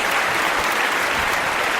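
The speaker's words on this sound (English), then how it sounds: "Round of applause for Dave Chappelle." A live comedy show audience breaks into a dense, steady round of applause, loud and close, filling the whole stretch without any talk over it.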